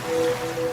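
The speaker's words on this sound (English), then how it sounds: "now you're drifting asleep to the scent and sound of waves" Ocean waves in a laundry detergent ad wash in as a brief, soft surf rush with a faint tone beneath, heard alone without talk.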